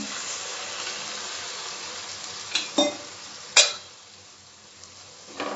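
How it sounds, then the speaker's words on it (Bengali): Red chilli powder sizzling in a pan as a little water is added, for a Karnataka-style vegetable sambar: a steady frying hiss with a few sharp bursts of spitting near the middle, no talk. "লাল লঙ্কার গুঁড়োটা দিয়ে দেবো। সামান্য জল দিলাম।"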